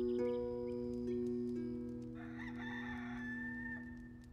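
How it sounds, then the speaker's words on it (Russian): A rooster crows once in the Enshrouded video game, a drawn-out, moderately near call rising and fading over a few seconds above steady tonal game music. "А вот и петушок."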